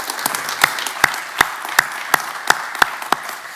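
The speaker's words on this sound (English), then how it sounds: "let's just give him a round of applause" Applause from a small audience at a talk at St Catherine's School, with a few sharp, regular claps standing out over a softer, steady patter of many hands, fairly close and lasting a few seconds.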